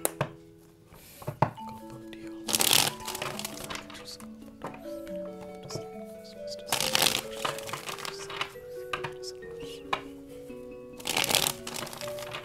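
A deck of tarot cards is shuffled by hand in three brisk riffling bursts, with light taps and clinks between them and soft music playing underneath.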